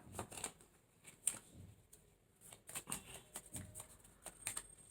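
Tarot cards are shuffled in soft, quick riffles and flicks, close and faint, arriving in uneven bursts with short pauses between them.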